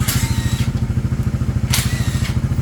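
A Suzuki Raider 150 Fi motorcycle engine, running again after being submerged in floodwater, idles close by with a fast, even throbbing pulse, loud and steady throughout, with a couple of faint bursts of hiss.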